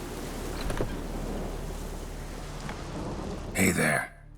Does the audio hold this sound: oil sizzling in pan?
no